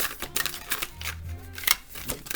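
Oracle cards being shuffled by hand, a run of soft papery riffles and flicks with brief clattering bursts, close and fairly quiet, with no talking.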